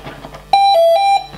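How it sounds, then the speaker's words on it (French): A motor's electronic speed controller emits a loud, clear tonal beep during programming, a sustained electronic note with a slight pitch dip in the middle, heard close and alone. "ça c'était le premier bip"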